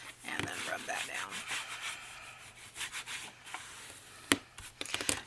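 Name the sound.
rubbing down paper on journal cover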